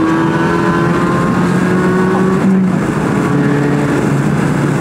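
Suzuki Swift Sport 2023 mild hybrid with a Stage 2 tune accelerating, a steady loud engine drone with rising harmonic tones from inside the car, continuous throughout with a brief dip midway.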